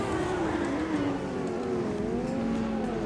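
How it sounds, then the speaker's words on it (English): A classic McLaren MP4/5B Formula 1 car from the Brazilian Legends pack in Automobilista 2 screams at full throttle, its high engine note rising and falling steadily through gear changes, loud and continuous with no talking. "Listen to the engine in full tilt."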